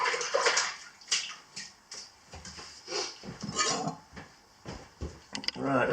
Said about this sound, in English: I'll just wash my hands.